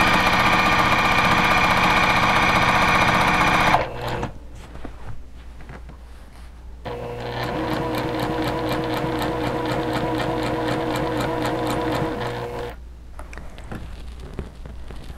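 A sewing machine stitches a fabric panel into a machine cover, whirring steadily and loudly up close, then stopping briefly before running again for several seconds and halting.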